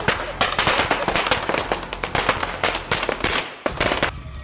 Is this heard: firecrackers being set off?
yes